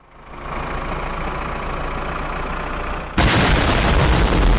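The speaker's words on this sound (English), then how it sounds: "Adding to the time it takes is the tractor, which moves at a snail's pace." A slow farm tractor in a video game rumbles with a steady, loud engine drone that suddenly turns harsher and noisier near the end, with no talking.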